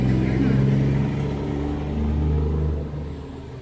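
A semi truck rumbles through a small town, a loud low engine drone that holds steady and then fades as it passes, while people talk nearby.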